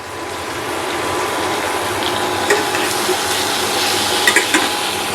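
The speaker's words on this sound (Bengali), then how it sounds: "আমি আরও অল্প জল দিয়ে দেবো।" A little water goes into a pan of pointed gourd cooking with spices and ginger paste, making a continuous hissing gush with a few small clinks and knocks of utensils near the end.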